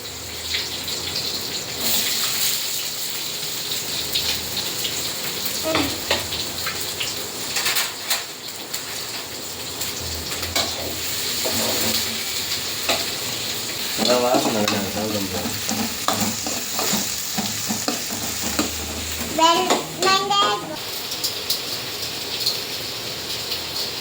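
Onions frying over a low flame in a pan for a home chicken curry, a steady sizzling hiss with intermittent spoon scrapes and stirring clatter, plus a few louder scraping bursts later, no voices.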